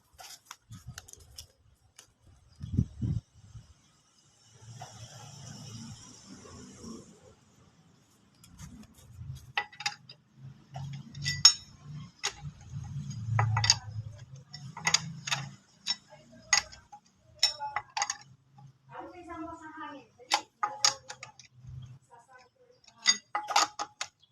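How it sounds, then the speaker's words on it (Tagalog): A tire wrench turns lug nuts loose on a car wheel, giving sharp metallic clicks and ticks in short bursts, with low thuds and rustling handling noise between them. "So tatanggalin na natin sa pamamagitan ng ating tire wrench."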